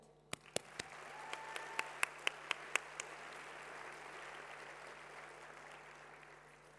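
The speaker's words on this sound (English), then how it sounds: "So random applause here, please, because they deserve the credit." At a graduation for a School of Humanities and Social Sciences, a handful of separate, crisp claps ring out first, then the audience settles into soft, sustained applause that stays fairly faint and distant.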